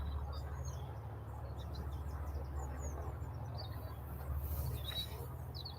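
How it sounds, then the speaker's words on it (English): Small birds chirp and tweet faintly outdoors near Liverpool Airport, scattered high calls over a steady low hum of distant traffic and engines. "Hear the birds tweeting"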